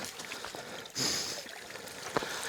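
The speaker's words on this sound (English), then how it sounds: "the water does flow pretty hard" Creek water runs hard along a night mountain-bike trail, a steady broadband rush throughout with a brief louder surge near the middle, close by and alone.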